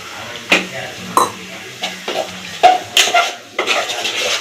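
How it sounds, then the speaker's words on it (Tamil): Lemon juice splashes into a pan of hot gravy, setting off loud sizzling and crackling, with a few clinks of a utensil against the pan. "இப்போது ஒரு எலுமிச்சம்பழத்தை புழிஞ்சு வச்சுருக்கேன். அதை ஊற்றிடுறேன்."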